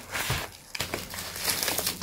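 Paper crinkling and crumpling up close, with a sharp tearing rip partway through, as blue wrapping paper and lots of tape are pulled off a package.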